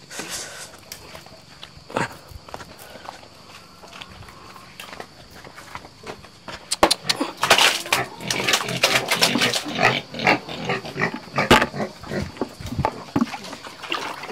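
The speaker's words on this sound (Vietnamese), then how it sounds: "lợn thì ăn rất là tốt" Pigs eat feed in a roomy farm pen, with grunting, snuffling and trough clatter growing louder and busier midway, plus footsteps and scattered noises nearby.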